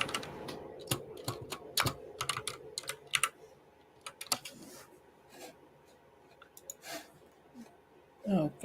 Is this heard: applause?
no